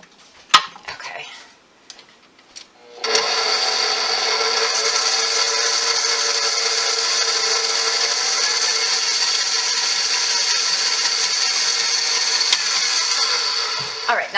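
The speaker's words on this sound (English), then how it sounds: "Let's stir that little bit up real quick" Sugar being stirred into a bread dough mix produces a steady, even mechanical whirring that starts after a few soft knocks and holds unbroken for over ten seconds.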